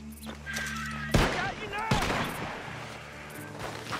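Two sharp gunshot cracks ring out from a barn in Red Dead Redemption 2, spaced under a second apart amid a western-game soundscape, with character voices talking around them.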